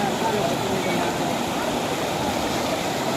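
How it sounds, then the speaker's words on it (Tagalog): A large river rushes in a continuous broadband wash, steady and fairly close, with no clear voices. "So ito yung pinakamalaking ilog siguro."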